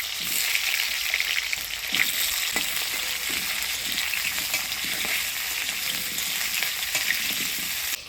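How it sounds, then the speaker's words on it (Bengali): Potatoes frying in hot oil in a wok give a steady, dense sizzle throughout, with occasional soft stirring knocks and no talk. "আমি কড়াই বসিয়ে দিলাম। প্রথমে আলুগুলা ভাজে নিব।"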